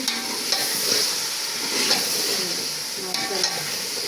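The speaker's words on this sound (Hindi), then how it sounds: "और इसके अंदर अब मैं डालूँगी आलू और बैंगन।" Potatoes and eggplant frying in a pan for aloo baingan, a steady close sizzle with occasional stirring scrapes and clinks of a spoon against the pan, no voices.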